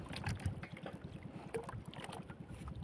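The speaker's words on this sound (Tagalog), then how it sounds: "Lumalakas na ang hangin, pambira yan." Strong wind blows at sea around a small fishing boat during traditional handline fishing in the Philippines, a steady rushing buffet against the microphone with a low, rhythmic chugging underneath.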